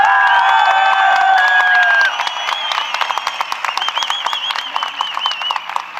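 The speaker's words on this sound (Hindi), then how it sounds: "कितनी ताली बजनी चाहिए।" An audience at someone's speech in Dehradun claps and cheers loudly, with dense rhythmic applause, shrill whistles and shouts that ease into scattered claps.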